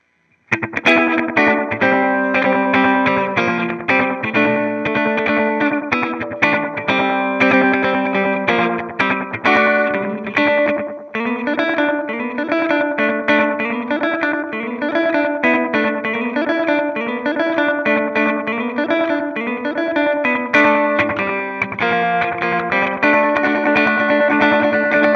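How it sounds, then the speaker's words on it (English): A guitar played through a PT2399 delay pedal set for slapback echo, each plucked note and chord followed by quick, dense repeats that blur into a reverb-like wash over a steady, continuous passage. "this will give it kind of a slapback effect, so this starts to get into the area of reverb, echo type effects"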